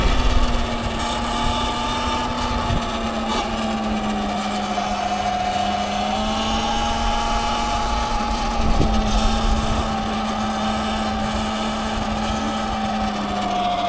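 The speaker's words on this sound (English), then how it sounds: "Like the motor's so noisy." A $600 Sur-Ron electric dirt bike on the move, its motor giving a steady high whine that rises and falls slightly with speed, up close under constant wind rush, no talk.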